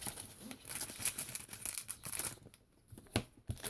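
Close crinkling and tearing of thin plastic, irregular rustles and rips in quick bursts, with brief pauses between handling sounds.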